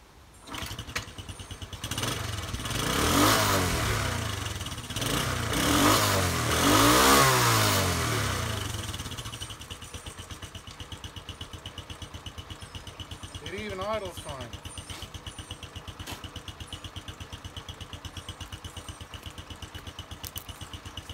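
A Postie Bike with a new carburettor and air filter fires up and settles into idle, a loud rising engine roar that swells twice, then drops to a steady low putter with a brief rev midway.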